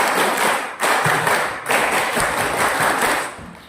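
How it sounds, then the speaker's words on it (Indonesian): Group of primary school children repeating the patterned scout clap at an orientation event, loud dense clapping in three surging bursts with brief pauses between, close and filling the room. "masih ingat tepuk pramuka?"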